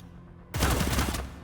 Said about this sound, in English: That guy heard gunfire.